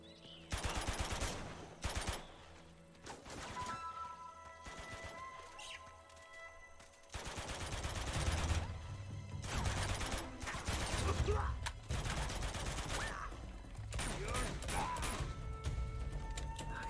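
Bursts of gunfire in Uncharted: The Nathan Drake Collection, repeated rapid shots in clusters across the stretch with a steady background bed, moderately loud and without talk.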